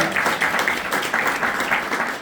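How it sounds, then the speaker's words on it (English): Audience at a real estate roadshow in Durban gives a loud, sustained round of applause, dense rhythmic clapping filling the room with no talking. "they deserve a very big round of applause"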